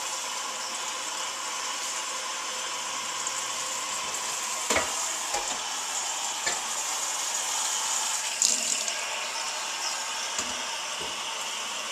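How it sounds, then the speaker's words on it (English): Cold tap water pours steadily into a pot of freshly boiled eggs, a few of them cracked, giving a close, continuous rushing hiss with a few faint knocks and clinks along the way. "We'll get some cold water in here as fast as we can."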